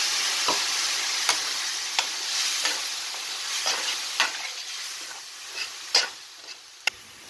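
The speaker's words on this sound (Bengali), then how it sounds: "ভালো করে মশলাটা আমি ভেজে নিলাম।" Konkani fish masala spices with fennel powder, turmeric and salt fry steadily in a pan, a constant bright sizzle broken by repeated scrapes and taps of a stirring spoon.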